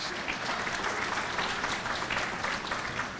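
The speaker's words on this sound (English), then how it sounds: "give her a hand of applause" Audience applause at a law school anniversary gala, a steady wash of clapping from a large room heard at moderate distance and fairly soft, unbroken for its whole length.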